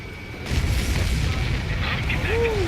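Enemy transports blowing up in the Ace Combat 7 flight game, heard as a sustained deep rumbling boom that swells in and holds, with jet and radio-effect tones laid over the blast.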